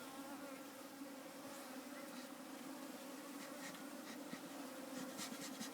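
Bees swarm around a top bar beehive in a steady, continuous buzz that stays close and even throughout, with no talk over it.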